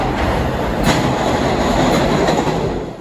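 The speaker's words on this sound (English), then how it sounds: "we're now going to get on a subway train along to Brooklyn" A New York subway train, the Q line heading to Brooklyn, rumbles loudly and steadily throughout with a dense roar of wheels on rail and faint clatter, close and continuous.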